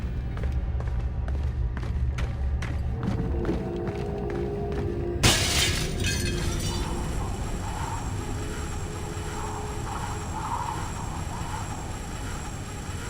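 Glass shatters in a sudden loud burst midway through a tense stealth scene in Splinter Cell Blacklist, following a series of sharp thumps and trailing into a noisy rumbling bed of ambience.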